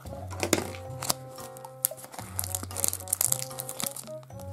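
Plastic packaging of an Ultraman Orb Bemural (enhanced) soft vinyl figure being cut open, with close crinkling, tearing and crunching over steady background music.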